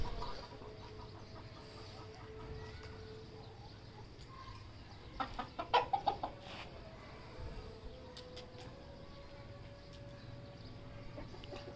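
A rooster and hens cluck softly in a backyard pen, with a brief louder burst of clucking midway over a quiet background hum.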